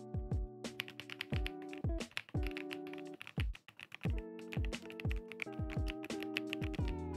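Rapid typing on a Royal Kludge R75 or S98 mechanical keyboard, crisp close keystrokes clattering in quick uneven runs, heard alone without talk.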